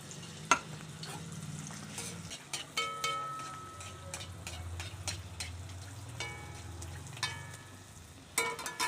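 Pitha frying in hot oil in a wok, a soft bubbling sizzle broken by scattered clinks and scrapes of a utensil, fairly quiet overall.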